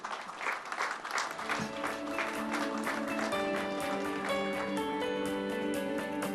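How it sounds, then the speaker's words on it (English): Audience at an India–USA trade connect event applauding during an award presentation, a crowd's clapping that builds quickly and holds steady, with musical tones rising underneath partway through. "Ladies and gentlemen, round of applause,"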